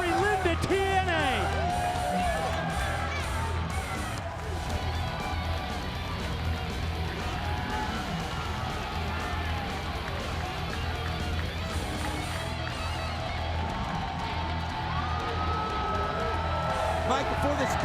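A wrestling crowd in the TNA Impact Zone welcomes back Jerry Lynn, a sustained, dense roar of cheering and clapping running throughout, with commentators talking over it.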